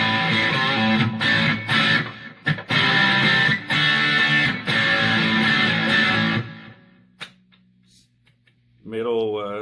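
Electric guitar on its humbucker pickup played through a Boss DS-1 distortion pedal, with distortion and tone both at noon: loud, thick, sustained distorted chords with brief choppy breaks, then a decaying ring, and a voice talking at the end.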